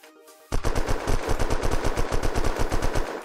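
Rapid automatic gunfire in the video game Unturned, a loud close burst of evenly spaced shots lasting about three seconds after a brief quiet start.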